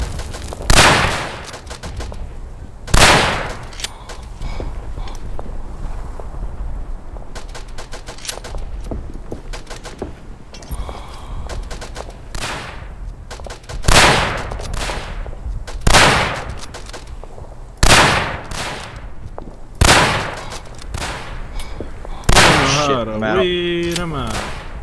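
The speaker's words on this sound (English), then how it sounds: "A lot of Russian guns." Russian guns fire in the World War I shooter Verdun: loud, sharp gunshot bursts crack out every few seconds over a steady battlefield din, with a closer rattle of rapid shots near the end.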